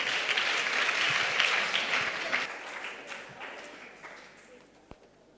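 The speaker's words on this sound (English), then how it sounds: "Let's have a round of applause for Devashi and Hiya." An audience at a student TED-Ed talk applauds two contemporary dancers, a burst of clapping that gradually thins and fades away, ending with a single sharp knock.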